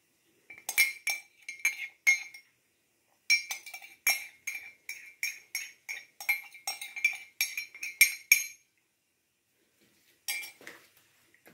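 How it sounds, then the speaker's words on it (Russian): A spoon taps and clinks against a bowl in quick, irregular bursts while marinade is poured over shredded carrots and mixed. The sounds are close and crisp, broken by short pauses. "Так, и теперь это все выливаем в нашу морковку."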